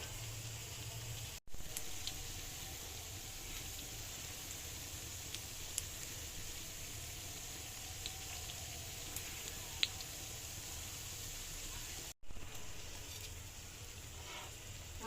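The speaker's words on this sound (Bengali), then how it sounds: "আমি এখন ডিম আছে একটু ভেজে নিচ্ছি" Eggs fry in a pan with a steady, faint sizzle and soft crackle that runs unbroken except for two brief cuts, with no talking.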